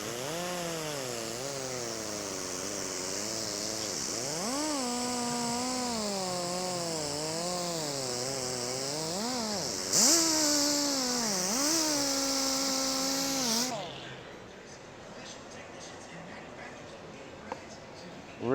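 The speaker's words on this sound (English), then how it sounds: "Got to be hit it easy with the angle grinder because that high RPM will make the gel halo or burn it." An angle grinder runs steadily while polishing compound on gelcoat, its whining motor tone rising and falling as pressure changes, loud and continuous before cutting off and leaving quieter room sound.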